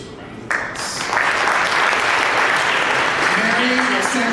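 An audience at an annual tribute event applauds, the clapping swelling suddenly after a brief quiet moment into a dense, sustained ovation, with faint voices underneath.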